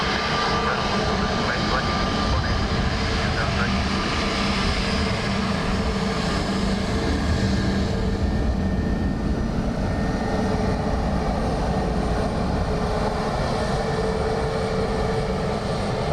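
A Qatar Airways jet airliner at Dublin Airport gives off a continuous engine roar at close range, steady in level throughout, while a person talks faintly in places.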